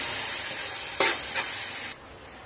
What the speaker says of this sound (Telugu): ఇప్పుడు ఇదంతా కొత్తగా ఫ్రై అయ్యే వరకు ఫ్రై చేసుకుందాం.